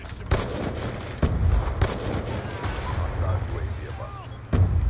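Gunfire in Black Ops 2 multiplayer cracks out as several sharp, loud shots at irregular intervals over a dense background of game noise, with a voice talking in between.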